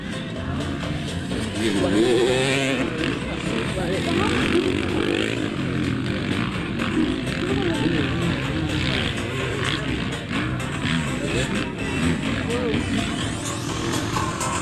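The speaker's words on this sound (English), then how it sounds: "RM 250 two-stroke. Nothing but raw power that bike is." Two-stroke motocross bikes, including a Suzuki RM 250, race in a Bermuda Boxing Day event with a loud, continuous buzzing engine drone that rises and falls as riders pass, while a commentator talks over it throughout.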